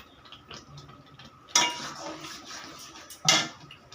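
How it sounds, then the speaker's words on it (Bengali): A spoon stirs poppy seed halwa with ghee in a metal pan, giving soft scraping and light clinks with two louder scrapes against the pan, close by and with no talk. "এবারে এটাকে আমি নাড়তে থাকব।"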